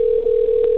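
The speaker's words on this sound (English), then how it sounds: "Oh, shit. It's ringing." A phone line tone sounds during an outgoing call, a steady unbroken pure tone, loud and close, lasting under a second with nothing else over it.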